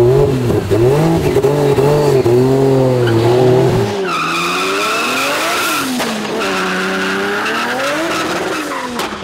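A car revving hard and driving a lap during a film stunt shoot, with a loud, close engine whose pitch swoops up and down through the turns, mixed with squealing tires.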